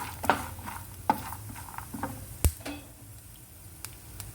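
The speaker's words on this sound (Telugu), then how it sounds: "జీలకర్ర వేసుకోవాలి ఫ్రెండ్స్ జీలకర్ర కొద్దిగా ఫ్రై అయిన తర్వాత" Cumin seeds fry quietly in a pan, giving a soft, faint sizzle with a few scattered taps and clicks from stirring, no talk over it.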